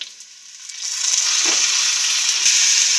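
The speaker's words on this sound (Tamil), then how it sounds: "இந்த வெங்காயத்தோட பச்சை ஸ்மெல் போகிற அளவுக்கு நல்லா வதக்கிக்கலாம்" Ground shallot paste sautéing in hot oil for a fish curry, a loud close sizzle that swells after the first second and holds steady, with faint stirring scrapes and no talking.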